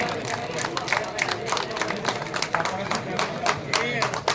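An audience at a chariot festival award ceremony breaks into scattered, irregular clapping to honour award recipients, close and moderately loud, with crowd chatter and voices running underneath.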